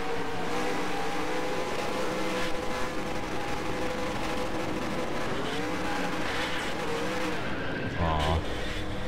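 Race cars in the NASCAR Racing 2003 game checking up on track: a dense, continuous roar of several engines with shifting pitch, ending in a brief sharp tire squeal.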